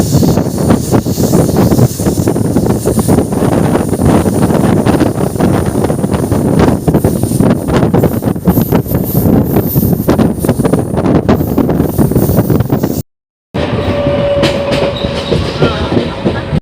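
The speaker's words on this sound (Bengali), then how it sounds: "চেন্নাই শালিমার করমণ্ডল এক্সপ্রেস।" The Chennai–Shalimar Coromandel Express rushes past at close range, a loud continuous roar of rattling wheels and clattering carriages with heavy wind buffeting, broken by a brief cut near the end.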